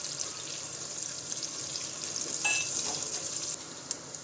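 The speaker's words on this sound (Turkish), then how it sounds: "Önce soğanlarımızı ilave ediyoruz. Biraz kavuruyoruz." Onions softening in melted butter and olive oil give off a steady, gentle sizzle with occasional stirring scrapes, close and alone without any voices.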